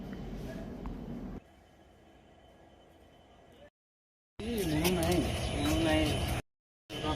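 A train sits at a railway station, with a rumbling platform and carriage din that drops to a quieter hum, cuts out, then returns loudly, with voices talking over it.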